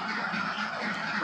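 Ducks on a duck farm raised for eggs, a dense flock producing a steady, continuous wash of quacking and chatter, fairly loud and close throughout the short stretch with no talk.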